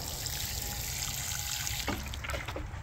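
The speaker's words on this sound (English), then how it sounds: "Go ahead and water that guy in." Water pouring generously from a hose or can onto a newly planted, mulched tomato plant in a garden bed, a steady close splashing wash that shifts and breaks up toward the end.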